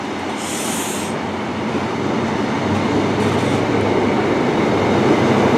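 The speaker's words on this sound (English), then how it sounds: "out goes the cross-country class 43, the high-speed train service to Newquay from Dundee." A Class 43 high-speed diesel train pulls away from Chesterfield station with a rising rumble, a brief high squeal at the start and a steady roar of wheels on rails.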